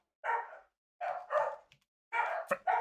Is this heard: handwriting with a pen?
no